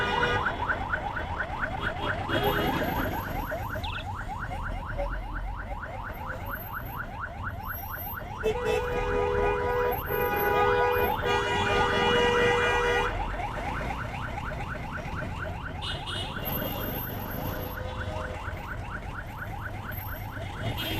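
An ambulance siren wails in heavy traffic near the Mohakhali bus terminal in Dhaka, a loud, repeating, warbling tone that runs the whole time over dense road rumble.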